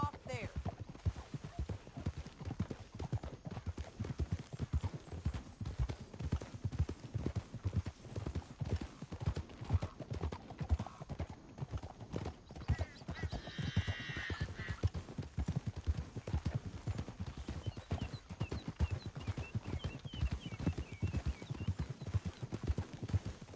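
Horse hooves clip-clop steadily in Red Dead Redemption 2, a rhythmic galloping pattern close by and fairly loud throughout, with a brief whinny midway and voices talking over the riding.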